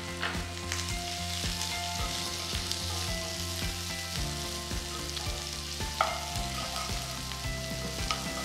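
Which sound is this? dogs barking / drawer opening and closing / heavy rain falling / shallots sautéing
shallots sautéing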